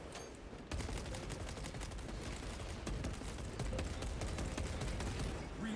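Heavy bolt rifle gunfire in the video game Space Marine 2, a loud, dense stream of rapid shots and impacts running steadily for several seconds with no talk.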